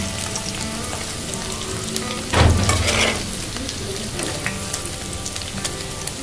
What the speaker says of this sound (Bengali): পনিরটা তুলে নেওয়ার পর ওই তেলের মধ্যেই আমি আলুগুলো দিয়ে দিচ্ছি